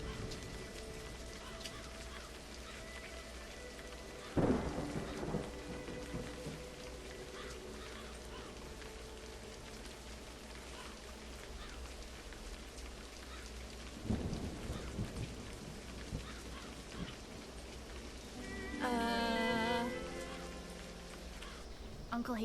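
Steady rain with low rumbling thunder in the video game A Highland Song, two heavy thunder rolls breaking through the constant downpour, with a brief bird-like call near the end.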